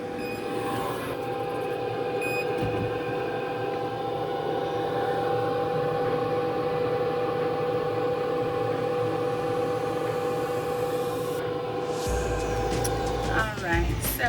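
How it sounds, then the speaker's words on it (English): A steady hum from an air conditioner runs throughout behind a laser engraving setup, with a constant broadband drone and tonal whine, while a person talks over it. "if you hear noise in the background, I'm so sorry. I have the air on."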